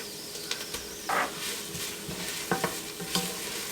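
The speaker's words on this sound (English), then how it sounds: "So we just want to give this a minute or two, and I'm going to stir it pretty constantly so that we don't burn it" Minced garlic sizzles with onions and peppers in a pot for a jambalaya-style soup, a low steady fry broken by repeated scraping strokes of a spoon against the pan, with no talking.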